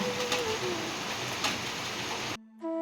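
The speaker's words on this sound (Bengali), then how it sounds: "এত বৃষ্টি হলে পরে যাওয়া যায় কি জোরে জোরে বৃষ্টি পড়ছে" Heavy rain pours down in a steady, dense wash close by, with a few faint ticks on top, then stops abruptly near the end, leaving quieter tones.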